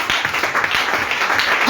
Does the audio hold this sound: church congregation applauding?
yes